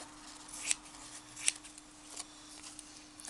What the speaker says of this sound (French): vous coupez autour du tissu pour que ce soit pas trop grand après à coller en dessous.